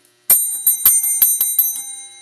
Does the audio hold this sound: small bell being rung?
yes